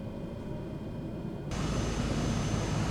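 A Piaggio P180 Avanti II engine in Microsoft Flight Simulator spins up abruptly partway through, jumping from a low hum to a loud, steady broadband roar.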